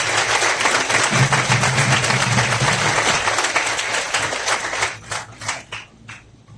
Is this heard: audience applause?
yes